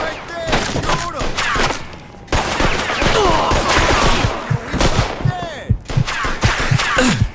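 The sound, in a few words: gunshots in Mafia II Definitive Edition video game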